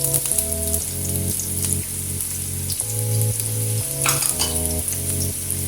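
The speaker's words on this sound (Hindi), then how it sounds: "अब हम लहसुन प्याज को थोड़ा सा ब्राउन करेंगे" Chopped onion and garlic sizzling steadily in hot oil in a kadai, a continuous loud frying hiss with a low background tone running underneath and no voices.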